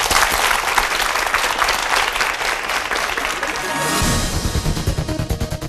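A lecture audience breaks into loud, sustained applause, dense clapping that continues steadily and turns into more distinct, uneven claps near the end.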